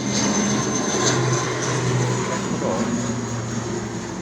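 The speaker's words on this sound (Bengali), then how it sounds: "ডোমেস্টিক বিমান এখানে মূলত আসে এসব বিমানের সুন্দর ল্যান্ডিং এবং খুব কাছ থেকে বিমানটি পর্যবেক্ষণ করতে পারবে" Aircraft engine roar from a domestic airliner landing near the Bakkhali river mouth in Cox's Bazar, a steady loud drone with low hum that holds throughout and eases slightly at the end.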